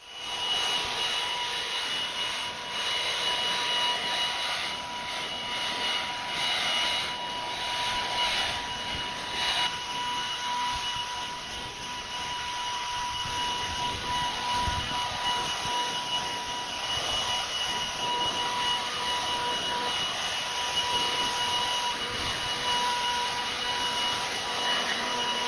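A leaf blower clearing leaves off a clover food plot in woods with cut dead ash, a loud, continuous high whine and roar held steady for the whole stretch with small surges and dips, and no voices.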